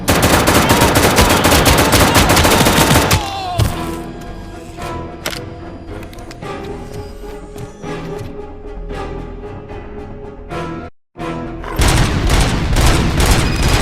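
ED-209 robot firing its guns in RoboCop: Rogue City, a loud, dense burst of automatic fire, then scattered shots and booms with a brief silence before heavy firing resumes.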